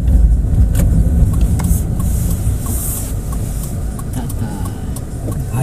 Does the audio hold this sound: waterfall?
no